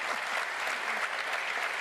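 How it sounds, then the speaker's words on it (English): Audience at a 2007 talk on economics gives a brief, dense burst of applause, an even wash of clapping with faint voices mixed in. "Do I hear any applause?"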